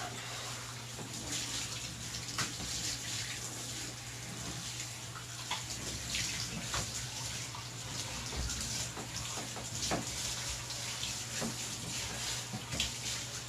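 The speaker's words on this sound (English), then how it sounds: "Gotta get all the soap rinsed off" Water runs steadily over a dog's coat as shampoo is rinsed out during an at-home bath, a continuous close gush with a low hum underneath for the whole stretch.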